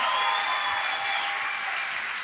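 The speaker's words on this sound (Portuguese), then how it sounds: "Mais palmas para ela, né? Aplausos!" Sustained applause from an audience at a financial coaching seminar, steady and fairly loud clapping throughout the short stretch with no voices over it.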